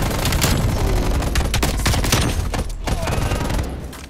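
Dense, loud gunfire from the video game Call of Duty Black Ops Cold War, with bursts of automatic fire and sharp shots overlapping continuously throughout, with a large gun being fired and no talk over it.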